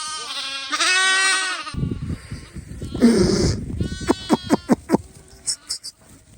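Sheep and newborn lambs bleat repeatedly nearby as lambs reunite with their mothers, long wavering cries followed by a quick run of short, higher lamb calls.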